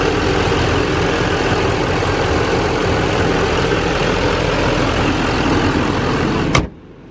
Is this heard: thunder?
no